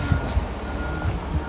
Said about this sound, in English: Last truck's out of here.